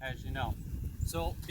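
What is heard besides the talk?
No distinct noise like a dog, phone or traffic.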